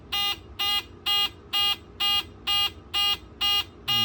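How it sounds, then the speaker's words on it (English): A homemade digital clock built from old circuit boards sounds its alarm beep: a loud, regular series of nine short electronic tones, evenly spaced about half a second apart, alone without talk. "So here's the beep."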